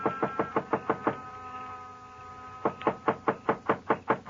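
Two bursts of firm knocking on a door, about six raps each, sharp and close, separated by a quiet pause.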